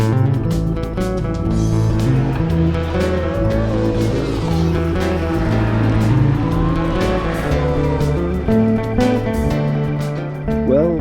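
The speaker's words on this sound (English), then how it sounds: "I'm on my KTM RC390" A KTM RC390 motorcycle ridden on a warm December morning: a loud, steady engine drone that rises and falls in pitch with the throttle, with no talking.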